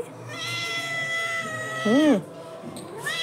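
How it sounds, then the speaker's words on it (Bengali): A cat meows close by with a long drawn-out call that rises into a louder, wavering cry near the end, followed by the start of another meow. "খেয়ে নিয়েছে, আবার ম্যাও করছে।"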